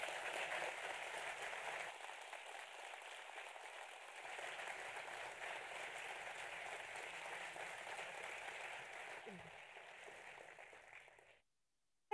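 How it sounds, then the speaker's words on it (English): Faint, distant audience applause at the close of a corporate budget event broadcast, an even patter of clapping sustained for about eleven seconds before cutting off abruptly. "Thanks for all the clapping."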